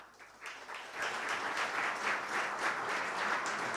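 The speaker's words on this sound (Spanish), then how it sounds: "A todos ellos, por favor, los recibimos con un fuerte aplauso" Audience applause welcoming panelists onstage at an energy-revolution panel session, starting light and swelling within a second into steady, dense clapping that fills the hall.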